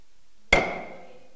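A single sharp auctioneer's hammer strike at an online design auction, a loud close crack that rings briefly and decays within a second, with no talk.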